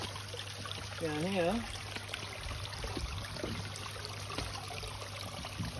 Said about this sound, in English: there's a fair bit of water coming on the back here